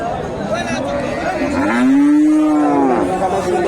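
A cow gives one long, low moo close by at a cattle market, rising and then fading, with faint background noise around it.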